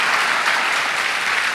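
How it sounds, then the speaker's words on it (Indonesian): A church congregation clapping during a Sunday service, continuous and dense with no pauses, filling the space evenly at steady volume. "Tepuk tangan buat Tuhan, tepuk tangan dong."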